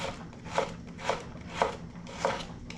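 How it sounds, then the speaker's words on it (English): A knife chops vegetables into thin matchstick slices on a board, four evenly spaced crisp cuts sounding close and clear with no talking, for Kolkata street-style vegetable chops. "start cutting like a matchstick"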